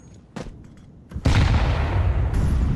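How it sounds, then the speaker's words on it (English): A grenade detonates in a Counter-Strike match, landing as a loud sudden boom with sustained rumbling debris noise that fills the rest of the moment after quieter game sounds and a few thuds. "That's a beefy nade."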